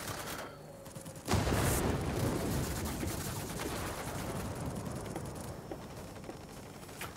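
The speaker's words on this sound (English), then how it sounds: "Okay, we'll drop our bomb, the mighty bomb." A bomb from a Skua dive bomber in World of Warplanes bursts with a sudden loud boom, followed by a long rumbling roar of engine and gunfire that slowly fades.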